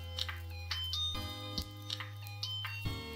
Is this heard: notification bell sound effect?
yes